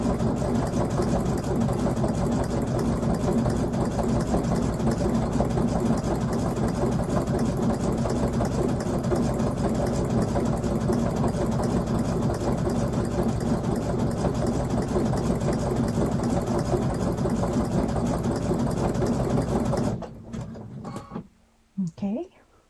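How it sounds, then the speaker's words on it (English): A sewing machine runs steadily while stitching a holiday fabric rope trivet, a loud continuous mechanical drone lasting about twenty seconds before it stops, leaving quieter handling noises. "My machine's ready, I'm threaded, and I'm ready just to sit down and do a trivet."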